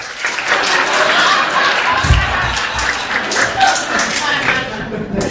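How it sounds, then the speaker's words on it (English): An audience at a live show claps hands in a steady, broad wash of applause that fills the whole stretch, with crowd noise and a few low thumps mixed in. "Clap hands if you love somebody."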